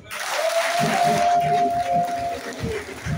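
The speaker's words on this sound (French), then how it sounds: "Il faut applaudir." Audience applause at a transporters' mobilization rally, a burst of crowd clapping rising quickly and holding, with a sustained tonal hum and some thumps beneath, moderately loud.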